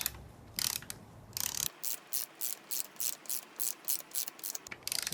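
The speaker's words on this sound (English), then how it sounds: "so you can move it with the torque wrench." A torque wrench ratcheting on a transfer case bolt during an NP249 rebuild, giving a quick run of clicks and then about ten evenly spaced, crisp ratchet bursts at close range in a quiet room.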